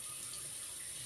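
Steady running tap water splashing into a sink while rinsing off during a shave, a continuous faint hiss with no voices.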